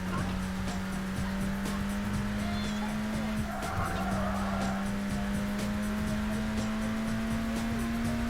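Racing car in the GameCube game Burnout, its engine holding a steady high drone while tires squeal and skid mid-run, close and continuous with no talk.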